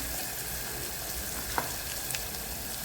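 Ground green chilli masala paste sautéing in oil for a pigeon pea pod curry, a steady close sizzle and crackle with a faint stir partway through.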